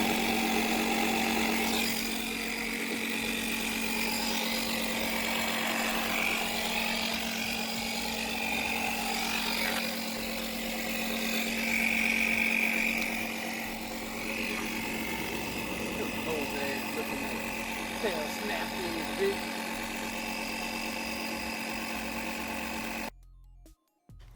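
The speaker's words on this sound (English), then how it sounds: "An example of me putting air in my tire." A portable air compressor runs steadily while inflating a car tire, giving a continuous mechanical hum with a strong droning tone that holds for about twenty-three seconds and then cuts off abruptly.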